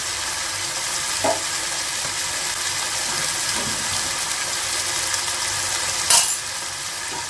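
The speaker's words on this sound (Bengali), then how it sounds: "আমি মাংসটা একটু কষিয়েছি সামান্য জিরাগুলো" Chicken pieces fry with cumin seeds in a pan, giving a steady, close hissing sizzle throughout, broken by a few soft clinks from stirring and one sharper scrape near the end.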